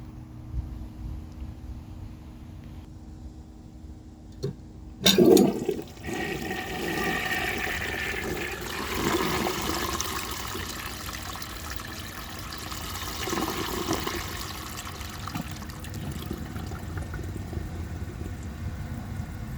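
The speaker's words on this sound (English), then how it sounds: "So I will show you guys a flush, and then let's see how it does on tests." A restored 1930 Eljer Sanus toilet flushes, opening with a sharp clunk of the handle, then a strong rushing surge of water that settles into a long, steady trickling refill.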